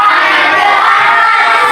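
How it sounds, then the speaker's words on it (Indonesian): A group of children clapping hands in applause, a dense steady patter of claps filling the whole short moment with a few faint voices mixed in. "Sekarang kita tepuk tangan untuk kesepakatan yang telah kita buat"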